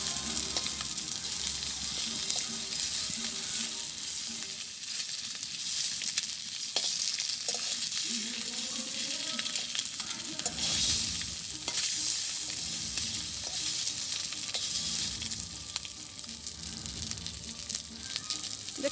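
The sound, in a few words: egg frying in a little oil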